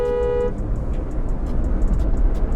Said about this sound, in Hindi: ये हॉर्न साउंड, हॉर्न की साउंड थोड़ी बहुत अंदर भी सुनाई देती है।